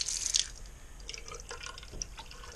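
A hotel bathroom sink tap over a beige basin runs water in a close splashing trickle with dripping patter, loudest in a sharp burst at the start and then easing into a softer, uneven flow.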